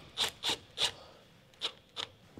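A hand screwdriver nips up a self-tapping screw into plastic wrap-around distribution board trunking, giving three close rasping turns followed by two shorter ones after a pause, with no talking.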